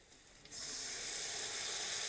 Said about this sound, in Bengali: দিয়ে দেবো ফেটিয়ে রাখা টক দই।